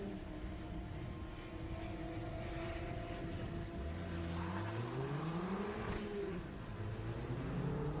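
A 1965 Mazda Miata race car pulls away from the start line at an autocross event in Daytona, its engine note rising and sweeping upward through the gears at moderate distance over a steady background of other engine noise.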